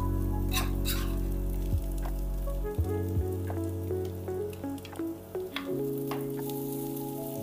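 Chopped tomato and green chillies fry in a pan for upma, giving a loud, continuous close sizzle with occasional stirring scrapes, while a low steady hum runs underneath; no talking.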